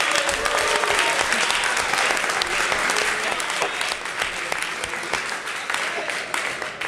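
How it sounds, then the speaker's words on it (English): An audience breaks into sustained applause during an improv comedy show, dense clapping that starts full and tapers slightly toward the end, with no clear speech over it. "Let's give them all a big round of applause."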